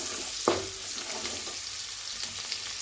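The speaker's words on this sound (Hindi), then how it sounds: "डाल के इसको भी अच्छी तरह से फ्राई कर लूँगी मैं।" Two or three mildly hot green chillies fry in a pan with a loud, steady hissing sizzle, one sharp utensil clink near the start and a few faint taps later, with no talking.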